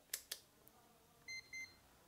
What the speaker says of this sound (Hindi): बहुत सारे लोग इसको बीप रेंज भी बोलता है जहाँ पर दोनों प्रॉब को टच करने से ऐसा आवाज़ निकलती है